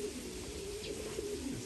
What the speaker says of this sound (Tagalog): Maganda yung lipad ng mga ibon natin.